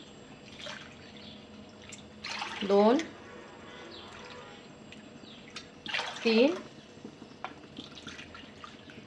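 Water for sago papad is poured from a cup into a pot in two short, close splashing pours while a voice counts aloud.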